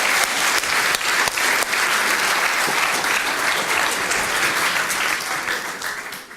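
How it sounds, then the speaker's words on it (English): An audience gives a sustained round of applause at an entrepreneurship talk, dense steady clapping from a crowd that fades slightly toward the end. "Round of applause again."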